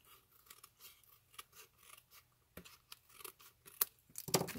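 Scissors snip through card stock for a pop-up slider card in several short, crisp cuts at close range, quiet between strokes, ending in a louder burst of rustling paper.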